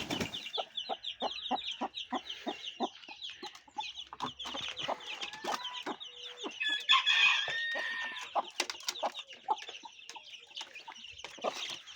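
Chickens, hens among them, cluck in quick, busy bursts nearby in a coop, with a rooster-like call rising briefly midway.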